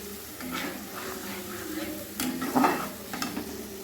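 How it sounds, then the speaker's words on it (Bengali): Spice masala of Kashmiri chilli powder, cumin and coriander powder being fried and stirred in a pan over medium heat for a Bengali rui fish kalia, with soft scraping strokes over a steady low sizzle, a few louder clanks near the end. "এবার ভালোভাবে আমি কষিয়ে নেব মিডিয়াম আছে তিন মিনিট মতো"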